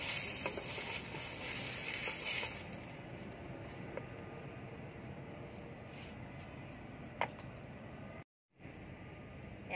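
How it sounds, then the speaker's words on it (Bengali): Vegetable chapati, a stuffed flatbread, frying in a wok, giving a steady close sizzle throughout with a louder burst near the start and a brief dropout near the end. "একইভাবে আমি প্রত্যেকটা ভেজে নেব"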